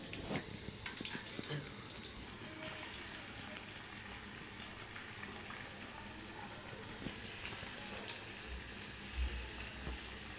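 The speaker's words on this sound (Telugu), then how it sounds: "ఇలా కొంచెం డీప్ ఫ్రై చేసుకుందాం." Chicken pakodi pieces deep frying in hot oil, a faint, steady sizzle and crackle continuing throughout without pause.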